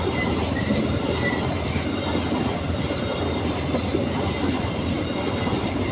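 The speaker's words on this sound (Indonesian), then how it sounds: "ini lebih dari 30 gerbong teman-teman kalau kereta Babaranjang kayak gini ya" A long Babaranjang freight train of more than 30 wagons hauled by two locomotives rolls past on double track, a loud, steady rumble of wheels with rhythmic clatter and faint high squeals throughout.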